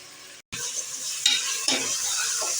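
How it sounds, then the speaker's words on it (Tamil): Sliced onions with a little salt frying in a pan for seeraga samba chicken biryani: a bright, close sizzle with scraping stir strokes, broken by a split-second gap near the start, and no talking. "வெங்காயம் வதக்கிறதுக்காக கொஞ்சம் உப்பு போட்டுக்கிறேன்"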